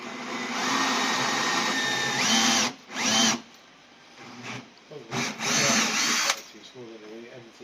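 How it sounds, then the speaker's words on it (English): A power drill whines in several bursts, drilling a hole through a plug in a campervan washroom, revving up and stopping, with short pauses between runs and faint voices in the background. "just drill a hole in the middle of the plug"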